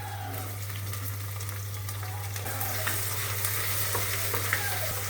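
Capsicum frying and being stirred in a pan in a home kitchen, a continuous close sizzle with repeated scraping stirs and a steady low hum underneath.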